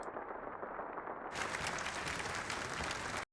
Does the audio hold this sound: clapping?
yes